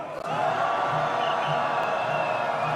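A crowd at a candlelight rally demanding the impeachment of President Yoon Suk Yeol shouts in unison, a loud, sustained roar of many voices with whoops layered on top.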